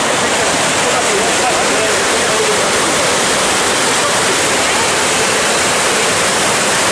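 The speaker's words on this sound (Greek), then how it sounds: "Κάθε χρόνο έχουμε ένα πρόβλημα εδώ με το ποτάμι Καστρίτη που με τις πολλές βροχές ξεχυλάει" The Kastritis river near Megalopoli, overflowing after heavy rains: a loud, dense, unbroken roar of rushing floodwater fills the whole stretch, close and constant like a waterfall.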